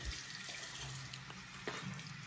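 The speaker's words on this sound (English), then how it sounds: "finna wet my face, man. I use warm water." A tap runs warm water into a sink for face washing, a steady, soft hiss with small splashes, fairly quiet and close.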